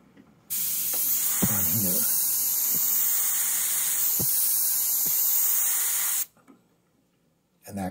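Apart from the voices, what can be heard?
misting light blue paint spray onto a painting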